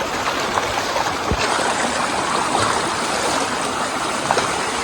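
A stream near Vattappara waterfall in Malappuram on a rainy day rushes and gurgles in a steady, close, dense wash of water noise with no voices.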